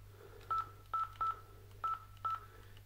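A phone number is dialed for a call: five evenly spaced touch-tone beeps sound at a brisk, slightly uneven pace, faint and clear over a low steady hum, with no talking.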